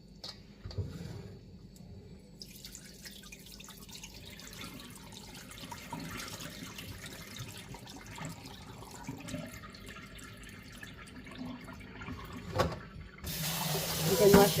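Salted cabbage for kimchi being drained and rinsed under running water in a sink, a continuous splashing flow that swells louder near the end, with brief speech in places.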